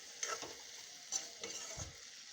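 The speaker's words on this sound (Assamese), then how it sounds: "আলু কেইডোখৰ দি ভালদৰে লৰাই মই ঢাক মাৰি আলুখিনিও সিজাই ল'ম।" Potato pieces are stirred in a pan where broiler chicken is cooking, giving a few quiet scraping strokes over a soft sizzle, close by and faint.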